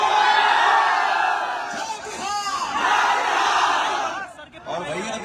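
A large political rally crowd roars and shouts from all sides, a loud sustained massed yell that swells, dips briefly and rises again, with voices blending into a dense wall of cheering.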